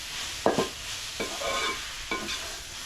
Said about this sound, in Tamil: அந்த கீரையும் வந்து சேர்த்து நல்லா வதக்கி விட்டுடலாம்